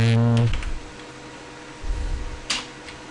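Keys clatter on a computer keyboard in a few short, scattered bursts of close clicks after a brief voiced sound at the start, with quiet gaps between strokes.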